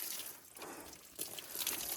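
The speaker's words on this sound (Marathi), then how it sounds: "त्याच्यासाठी मित्रांनो पाणी द्यायला लागतं असं" Water poured over the wooden wheel of a bullock cart in rural Palghar, a steady splashing wash with a louder surge after the first second, close by and alone without talk.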